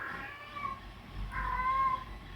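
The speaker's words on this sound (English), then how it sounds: "That annoying sound's my cat," A male house cat meows in two drawn-out, complaining cries, the second longer, heard alone at moderate distance over a faint steady hum from a nearby 3D printer.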